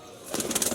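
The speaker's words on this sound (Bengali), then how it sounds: "ছেড়ে দিচ্ছি পায়রাটা" A purple-legged pigeon is freed from the hand during rain, and a short burst of flapping wings starts partway through, close and moderately loud, after a quiet start.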